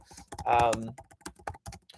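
Rapid clicking keystrokes on a computer keyboard, fairly close, in an irregular rhythm, with a voice speaking over part of the typing.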